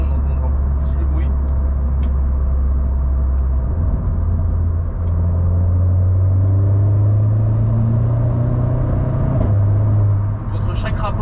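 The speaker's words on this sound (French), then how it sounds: "entre chaque rapport il y a un petit pétaradement, c'est vraiment sympa" A Renault Clio 4 RS engine revs loudly and continuously, with its pitch climbing through the gears and dropping sharply at each shift. Small exhaust crackles are heard between the gear changes.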